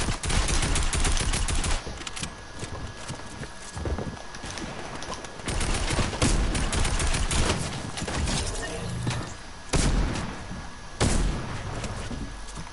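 Rapid video game gunfire in an online shooter, loud and dense bursts of automatic shots and single cracks filling the whole stretch with brief lulls, no talk over it.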